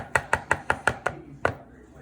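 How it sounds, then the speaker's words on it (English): Onions chopped with a knife on a cutting board, six quick even chops followed by a pause and one final chop, crisp and close. "a cup of onions chopped"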